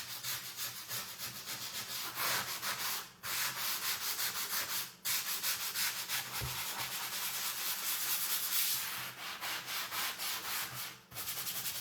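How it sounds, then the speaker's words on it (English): Close, steady rubbing of a cloth over a stained wooden sign, repeated back-and-forth scrubbing strokes with a few brief pauses, loud and alone with no one talking. "Just rubbing some of the stain off over there as well"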